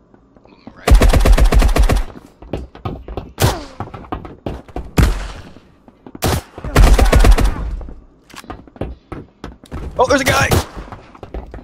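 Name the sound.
shotgun gunfire in a video game (Marauders)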